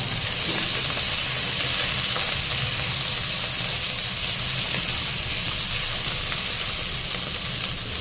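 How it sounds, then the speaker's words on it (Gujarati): Ginger, garlic and chilies stirred in hot oil over a full flame, a loud, constant bright sizzle with soft stirring scrapes underneath. "તેલ ગરમ થઈ ગયું અને આદુ આ બધું ફૂલ ગેસે જ હલાવવાનું"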